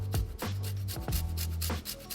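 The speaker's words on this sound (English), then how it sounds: "I've just got an old grater here. We're just gonna, on the fine grate, we're just gonna give it a little." Lemon zest being grated on an old fine grater, a series of quick rasping strokes in an uneven rhythm, close and fairly loud with no talk.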